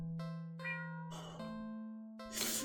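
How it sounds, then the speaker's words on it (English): A cat meows in a mysterious cat video game, a few drawn-out plaintive tones over a sustained musical drone, close and clear with no voices. "the cat meows almost pitifully at you"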